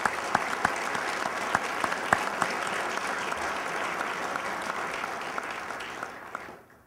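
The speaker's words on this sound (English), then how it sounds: "Please join me in giving our brave fire marshals a round of applause" An audience at a town State of the Town address applauds the fire marshals, a sustained round of clapping with a few sharper claps standing out, fading away at the end.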